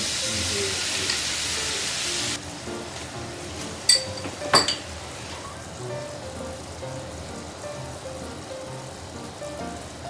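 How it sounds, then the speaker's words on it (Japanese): A steady sizzling hiss fills the air, with a couple of brief clinks partway through, as tare sauce is poured around a hot pan of pork belly-wrapped cucumber rolls. "タレを回し入れていきます。"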